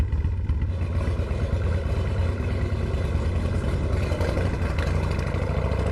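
A motorcycle engine idles nearby with a steady, rumbling low putter and faint mechanical clatter, no voices.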